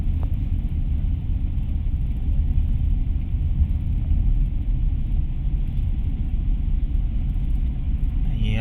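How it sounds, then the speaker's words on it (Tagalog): A steady low rumble of road traffic fills the inside of a slow-moving vehicle in heavy traffic on the way to SM Manila, continuous and even throughout with no talking. "traffic po talaga."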